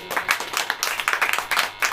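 A church congregation claps during a sermon: a short run of close, fairly rhythmic hand claps in uneven bursts, with no talk over it.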